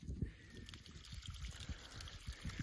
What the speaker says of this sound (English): Oh, it's a little waterfall.